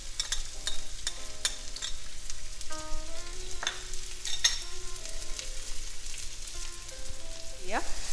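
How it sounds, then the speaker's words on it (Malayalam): Onion, garlic and ginger sizzle in hot oil for spring roll filling, a continuous crackling fry with scattered clinks and scraping of a utensil against the pan, and no talking. "ഇനി നമുക്കിതിനകത്തേക്ക് ഉള്ളി ഇട്ട് കൊടുക്കാം, വെളുത്തുള്ളി, ഇഞ്ചി,"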